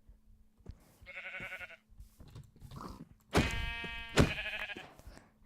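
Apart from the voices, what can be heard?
sheep bleating in Minecraft video game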